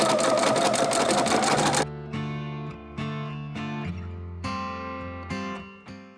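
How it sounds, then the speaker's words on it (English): A sewing machine stitches a hem on a cozy vest, a rapid loud mechanical whirring burst at the start, then stops, followed by several tonal notes. "You can finish the hem with your sewing machine or the cover stitch machine if you own one."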